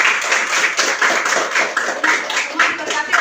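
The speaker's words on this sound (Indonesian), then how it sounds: "Tepuk tangan untuk Tuhan Yesus." A group claps along in a classroom devotion, a steady run of dense, fairly close hand claps lasting a few seconds with voices mixed in.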